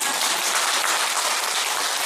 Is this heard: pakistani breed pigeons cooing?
no